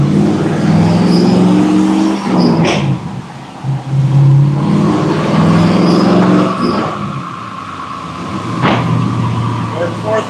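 A 2004 Pontiac GTO engine revs hard on a dyno, a loud sustained drone rising and falling in pitch through the gears, with a few sharp clicks and shifts, close and powerful; people talk briefly over it.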